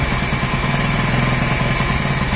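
A Honda CD-70 motorcycle, a 2023 model, idles steadily just after a kick start, its low single-cylinder putter running close and loud with an even, rapid rhythm and no talk over it.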